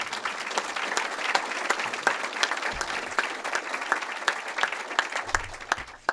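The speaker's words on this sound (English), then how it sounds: "that deserves at least a round of applause" An audience at a talk by Chris Matthews applauds steadily, a dense, even roll of clapping with individual claps popping through, fading slightly at the end.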